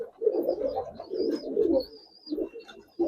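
Giribaz pigeons coo in low, throaty bursts, several rolling calls in a row with brief pauses, close by, with faint higher bird chirps in the background.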